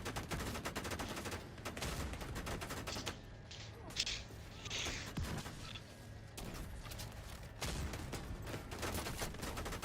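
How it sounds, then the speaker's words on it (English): Gatling gun sweeps in a video game boss fight against the Iron Horse, a long dense clatter of rapid-fire shots rolling on almost without pause, with brief bright bursts and faint talk beneath. "you will engage with Gatling gun sweeps and laser volleys"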